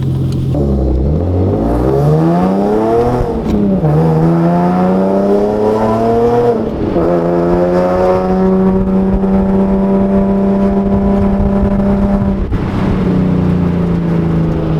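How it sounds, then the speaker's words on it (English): A bagged Nissan Nismo pulls away and revs up close and loud, the engine pitch climbing then dropping at each gear shift, three or four rises over a steady drone, with no talking. "We're gonna take it for a quick spin around the block"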